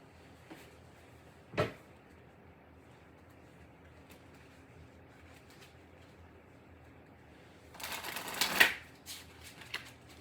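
Tarot and oracle cards are handled and pulled from a box: a soft papery riffle, then quiet, then a denser flurry of flicking and rustling near the end, all close by with no speech.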